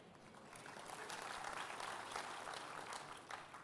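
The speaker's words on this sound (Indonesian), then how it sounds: "Jangan tepuk tangan, belajarnya capek Pak." A church congregation at a theology teaching session claps together in a steady, moderately faint wash that swells slightly in the middle and runs on with no talk over it.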